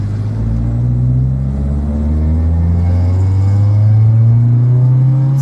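Engine of a 1997 Honda Civic DX with a D16Z6 stumbling during a first gear takeoff, a loud, close low rumble that rises in pitch as the car pulls away, with no talking.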